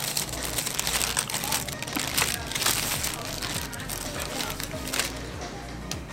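A McDonald's double cheeseburger is unwrapped up close, its paper wrapper crinkling and rustling in a continuous string of crisp crackles, with a voice talking quietly underneath.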